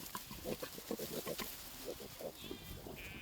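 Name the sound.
woolly pigs on a farm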